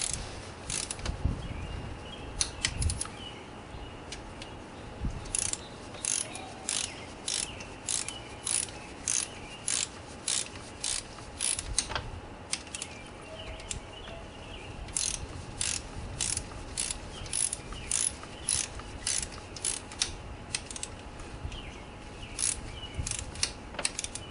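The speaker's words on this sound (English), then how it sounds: "Here I go to torque these to 120 inch-pounds of torque." Rapid repeated ratcheting clicks from a torque wrench tightening fuel injector bolts on a Ford Taurus intake manifold, coming in regular bursts of strokes, close and crisp.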